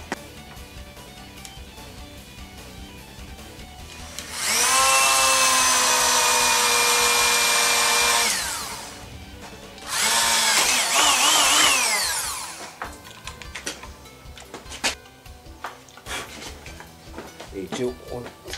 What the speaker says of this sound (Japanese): 穴を開けます。